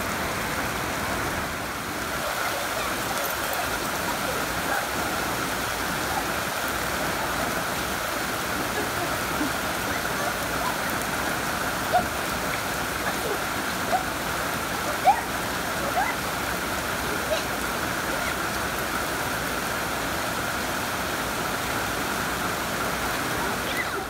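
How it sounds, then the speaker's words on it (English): Heavy rain pours down steadily over a backyard Father's Day cookout with a smoker running, a dense continuous hiss of falling water with a few sharper drips and knocks, and faint voices underneath. "It is pouring down rain"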